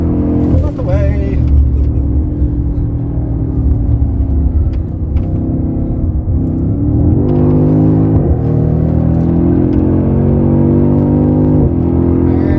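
A BMW X6M lapping the Kyalami Grand Prix circuit, heard from inside as a loud continuous engine rumble that rises and falls in pitch through gear changes and acceleration, with voices talking over it.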